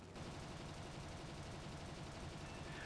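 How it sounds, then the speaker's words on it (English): Cannon fire from a He112 A-0 fighter aircraft in the War Thunder combat flight game, a sustained rapid stream of shots rattling continuously for several seconds, quiet and with no voice over it. "I often need to hold a stream of cannon shells on the target for several seconds"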